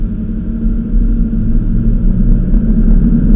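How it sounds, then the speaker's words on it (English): Low, steady engine rumble from a Subaru BRZ with a manual gearbox pulling away gently in first gear at a road junction, idle-level revs rising slightly as the car begins rolling, close and continuous with no talk. "Now we're going to go ahead, put a little bit of gas, slowly off the clutch. Now we're rolling."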